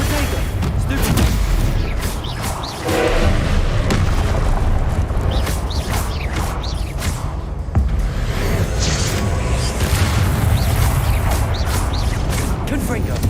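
Repeated Confringo fire spell explosions in Hogwarts Legacy combat, dense booming blasts and crashes running continuously alongside other spell effects, with a voice talking over the action.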